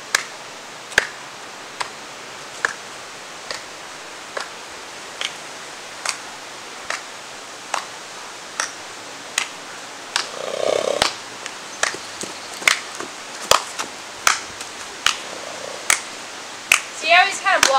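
A trainer claps hands near a skittish wild mustang: a steady series of sharp single claps at even intervals, close and clear, with soft movement and talk entering partway through.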